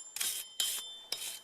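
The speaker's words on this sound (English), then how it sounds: "I typically just like to take a wire brush, clean things up a little bit, get the major chunks off." A wire brush scrubs grime and rust off the front brake rotor of a Chevy HHR or Cobalt in three short, harsh rasping strokes, close and crisp with brief pauses between them.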